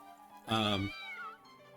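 Dr. Evil cat from the Fur Fighters video game gives one short, close, loud meow that trails off quickly.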